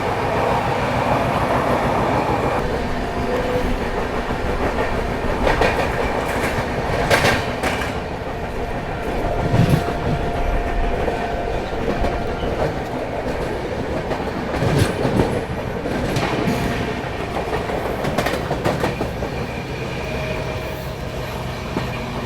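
The Swatantrata Senani Express runs through without stopping near Tundla Junction, a loud sustained rumble of wheels and carriages with recurring rhythmic clatters from rail joints, heard from on board.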